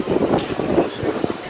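Strong, cold wind buffets the microphone outdoors at an amateur rugby match, a loud, gusting rumble that surges and fades unevenly throughout.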